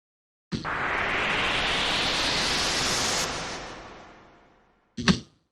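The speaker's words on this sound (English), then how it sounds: "This oscillator is producing only white noise," Synthesized white noise hisses loudly as a filter sweeps upward, then fades out gradually, followed by a brief sharp burst near the end.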